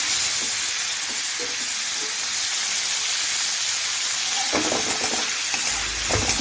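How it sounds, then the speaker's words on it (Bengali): Fish frying in a pan in a Bengali village kitchen, a loud, steady close sizzle and hiss with occasional crackling bursts and a louder spatter near the end. "মাছটা ভেজে রাখছি"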